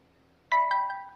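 A Realme 10s phone sounds its notification ringtone: one bright, bell-like chime with a second quick accent strikes out of near silence, then rings on and slowly fades.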